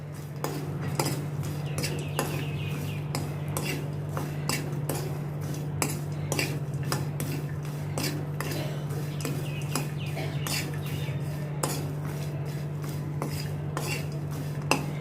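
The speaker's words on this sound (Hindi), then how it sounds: "इन्हीं को अच्छी तरह से मैं मिक्स करती हूँ।" A utensil scraping and clinking against a pan while roasted poha namkeen mixture is stirred, with repeated sharp taps and scrapes in an irregular rhythm over a steady low hum, close and fairly quiet.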